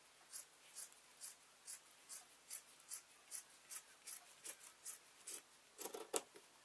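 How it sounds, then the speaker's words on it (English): Scissors snip through fabric folded over four times along a centre seam, a steady series of crisp, close cuts at an even rhythm, ending in a quicker cluster of snips. "I'm going to cut the centre seam"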